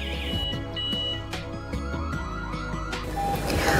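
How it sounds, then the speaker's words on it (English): A G90B WiFi GPRS alarm system's electronic siren wails in rising sweeps, then short beeps sound, loud and close, with no voices. "After the siren sound beep beep and the OLED display success"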